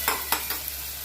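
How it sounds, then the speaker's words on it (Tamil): Onions sauté in a pan for home-style pepper chicken while a spatula makes three quick scraping strokes over a soft, constant sizzle. "இப்போ இந்த வெங்காயம் வதங்குறதுக்கு"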